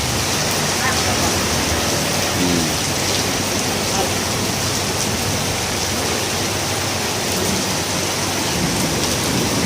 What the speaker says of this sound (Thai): ฝนได้ตกลงมานะครับ